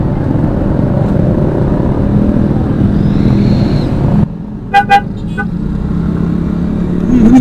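A motorcycle with a loud aftermarket exhaust launches hard on launch control, its engine roaring steadily for several seconds before cutting off sharply, followed by a few brief pops and a lower idle.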